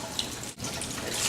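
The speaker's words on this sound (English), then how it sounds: "Can someone turn on the water?" Kitchen tap water runs steadily into a sink while vegetables are washed, a continuous soft splashing rush with a brief dip partway through and no voices.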